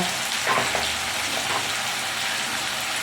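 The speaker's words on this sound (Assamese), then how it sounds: "গোটেইখিনি মিক্স কৰি অলপ টাইম ধুনীয়াকৈ ভাজি ল'ম" Ginger-garlic paste, salt, food colour, chili powder and cumin powder frying in a pan for chicken pulao, a loud, even sizzle close up with a brief stir early on.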